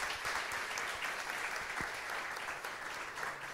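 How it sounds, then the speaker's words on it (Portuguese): A church audience applauding, sustained dense clapping from many hands filling the room evenly from start to finish. "Pode aplaudir mais uma vez."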